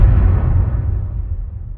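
A cinematic whoosh hit built from five layers: a loud, dense low-heavy impact already sounding at the start that slowly decays over nearly two seconds, alone with no voices.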